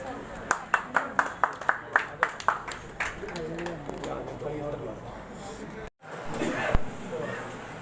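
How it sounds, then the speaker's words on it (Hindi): Audience at an NGO gathering claps loudly, with a run of sharp, evenly spaced claps building into sustained applause over a murmur of voices and shuffling. "भाई बहुत जोरदार तालियां सब लोग बजा रहे हैं,"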